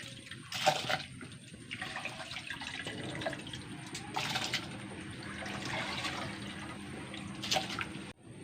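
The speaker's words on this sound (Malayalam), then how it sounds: "ചോറിൽ വെള്ളമില്ല വെള്ളം ഒഴിച്ചു കൊടുക്കാം" Water is poured into a pot of cooking rice in a home kitchen in several splashing bursts of gurgling and trickling, fairly close and with no voices.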